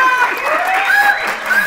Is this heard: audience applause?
yes